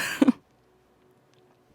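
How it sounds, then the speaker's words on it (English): A short, close double cough from a woman, loud and abrupt, then near silence with a faint click at the end. "I started coughing all crazy."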